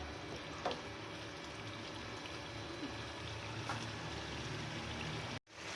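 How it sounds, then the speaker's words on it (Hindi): Tomatoes with a little added water fry and sizzle steadily in a pan for Pakistani dhaba-style mash dal, a dense continuous hiss, close and even, with no talking. "टमाटर डाल दिए इसमें और थोड़ा सा पानी ऐड कर लिए और इसको अब अच्छी तरह भूनेंगे।"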